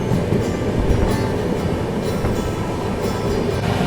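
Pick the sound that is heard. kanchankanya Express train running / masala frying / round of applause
kanchankanya Express train running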